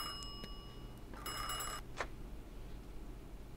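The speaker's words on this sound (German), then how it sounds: "Aha, das Telefon klingelt." A telephone rings in the Mafia 2 video game, with two sharp bell bursts followed by a louder, longer ring and a brief final chime, each clear against a quiet, low background hum.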